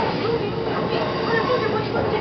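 The Kintetsu Tsudoi sightseeing train rolls along the rails between Toba and Nakanosato, a steady rumble of wheels and car noise heard from inside the carriage.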